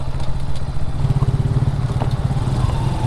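A motorcycle engine runs with a steady, throbbing low pulse and light mechanical clatter, heard up close from a camera mounted on the front of the bike, loud and continuous without talk.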